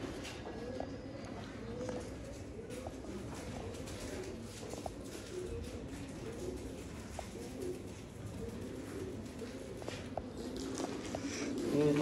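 A flock of Sialkoti pigeons in a loft coos continuously in low, throaty rolls, with scattered light footsteps and pattering around them, all fairly quiet and steady.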